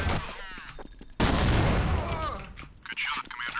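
Gunfire in a video game with a squad-style commander, heard as a sudden loud burst of shots that erupts partway through and continues in rapid rattling bursts, with voices talking over parts of it.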